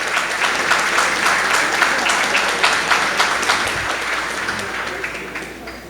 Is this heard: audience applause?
yes